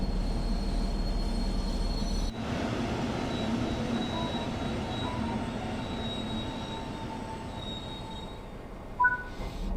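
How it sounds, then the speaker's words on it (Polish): Simulated brakes squealing on a Polish passenger train hauled by a BR 218 locomotive in Train Sim World 5, a thin high-pitched whine over a steady rolling rumble as the train slows, moderately faint, ending with a short clunk. "ten charakterystyczny dźwięk jak hamulce, zaciśnięte hamulce jak piszczą"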